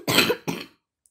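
Two quick, harsh coughs close by, the second shorter, followed by silence.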